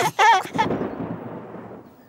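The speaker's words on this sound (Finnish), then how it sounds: "Ukkonen jyrisi." Rumble of thunder in an animated children's cartoon, a sharp crack followed by a long fading rumble that trails off over about two seconds, loud and alone.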